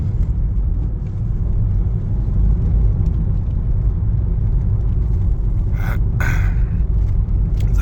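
A vehicle cruises along a highway with a loud, steady engine-and-road rumble throughout, and a couple of brief scrapes or bumps come near the end.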